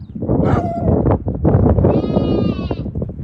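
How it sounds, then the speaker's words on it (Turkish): A lamb bleats twice nearby on a livestock fattening farm, a short cry followed by a longer wavering one, over a rumbling outdoor background. "Maşallah kuzu sesi geliyor."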